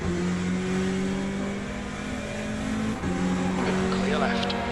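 Race car engine in the Le Mans Ultimate sim racing game, a steady sustained drone with a second faster-class car closing in and revving higher near the end, under occasional talk.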